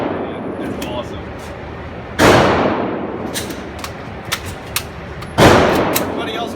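Two loud, sharp gunshots ring out at an outdoor shooting range a few seconds apart, each with a decaying echo, over background chatter and faint distant pops.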